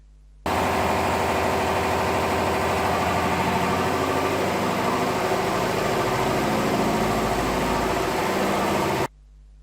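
A diesel engine on a dynamometer test bed, running with no load, at a steady, loud idle, starting and stopping abruptly, with a continuous rattling drone throughout.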